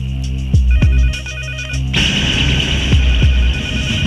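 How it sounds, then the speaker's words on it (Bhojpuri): A telephone rings at night in a film scene, a pulsing electronic ring for about two seconds before a louder droning, noisy backdrop takes over. "इतना रात के गुंडन के फोन आवेला, कोई फोन ना उठी"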